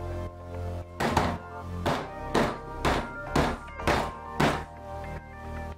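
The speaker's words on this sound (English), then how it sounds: "More aggressive banging." Seven sharp, evenly spaced thunks from banging a cast concrete soap dish to free it from its mold, each hit loud and close with a short ringing decay.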